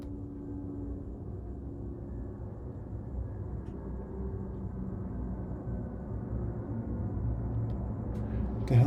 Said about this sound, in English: Some kind of military helicopter.